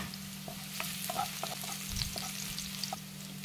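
Onion, ginger and garlic sautéing in a pan, a steady sizzle with scattered crackles and a few spoon scrapes against the pan, close and fairly quiet, no talk.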